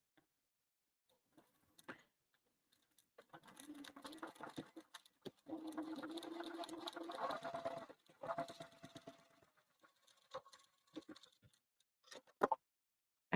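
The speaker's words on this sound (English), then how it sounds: "I put my presser foot right against that folded edge and then I sew down" A sewing machine stitches along the folded edge of a bag lining, giving two quiet, close bursts of steady whirring stitching separated by pauses, with scattered light clicks and taps around them.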